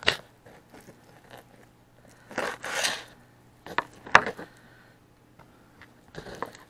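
Knife slicing chicken into bite-sized pieces on a cutting board in a home kitchen, a few separate sharp cuts and crunchy thuds spaced irregularly with quiet gaps between, close and fairly soft.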